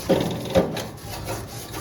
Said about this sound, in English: We can just go ahead and start scraping off.